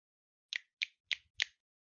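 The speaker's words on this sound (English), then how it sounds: "That's me snapping because clapping would be rude on a podcast" Four crisp finger snaps in a steady rhythm, close and quiet against silence, made in place of clapping during a podcast recording.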